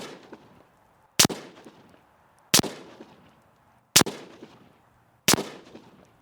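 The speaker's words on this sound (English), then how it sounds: "now we're gonna go 5 more shots at the top piece of tape" Four sharp, loud gunshots from a handgun fitted with a red dot sight fired at a target, spaced about 1.3 seconds apart, each followed by a short echoing decay, with near silence between them.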